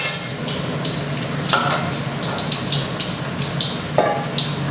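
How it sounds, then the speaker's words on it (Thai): Marinated pork sizzles as it fries in plenty of hot oil with a steady crackling hiss, and occasional utensil scrapes and clinks stir the pan. "ก็เดี๋ยวเริ่มทอดเลยครับ หมู ที่เราหมักเอาไว้นะครับ ลงมาทอดเลย"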